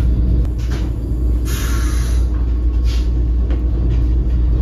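A Vande Bharat Express train running near Bolpur, heard from beside the carriage door: a loud, continuous low rumble of wheels on rail with a few brief rattling surges over the top.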